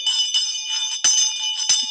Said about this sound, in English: Love this bell.